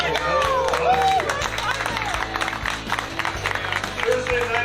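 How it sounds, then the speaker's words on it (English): Crowd at a live talk show held in a bar claps and cheers in a busy burst of applause, mixed with crowd noise and a voice talking over it. "Give yourself a round of applause."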